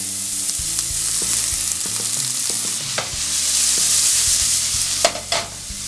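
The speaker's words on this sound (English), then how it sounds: "love that sizzle" Onions sizzle in a hot pan for a chorizo taco-quesadilla, making a continuous close hiss broken by occasional spoon clicks and stirring scrapes, with a faint background hum and no voices.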